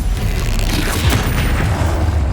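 A loud, deep boom from Bombarda and Confringo blast spells in Hogwarts Legacy, heard as one sustained, rumbling explosion close by.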